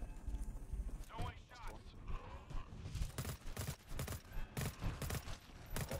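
Rapid enemy gunfire in a shooter video game, sharp repeated shots in close bursts throughout, with a player's voice speaking over part of it.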